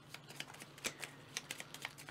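Cards being shuffled during a game of the Outpost board game, a quick run of close, crisp riffling flicks in a quiet room.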